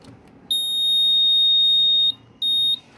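Arduino-based light security alarm built with a BC547 transistor, beeping loudly once a battery is connected: a long shrill piercing tone followed by a shorter second beep, close and clear.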